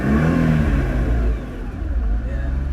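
A Nissan GT-R engine revs up close, rising then dropping back to a low rumbling idle, with a voice briefly heard over it.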